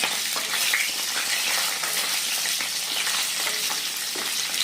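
Pumpkin and potato pieces sizzle and fry steadily in a hot pan for Bengali labra, a continuous bright crackle with occasional stirring and no voices.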